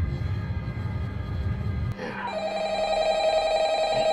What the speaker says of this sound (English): Yeah, of course, the phone had to ring.